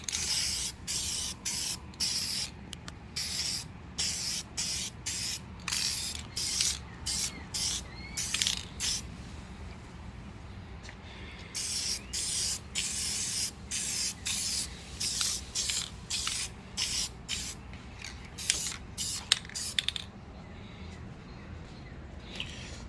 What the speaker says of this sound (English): Just want to spray some light coats.